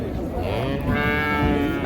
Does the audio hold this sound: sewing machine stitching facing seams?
no